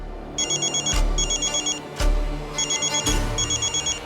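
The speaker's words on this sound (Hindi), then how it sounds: "उनका फोन आ रहा है।" A telephone rings in repeated trilling double bursts, fairly loud and close, with a couple of dull thuds between rings.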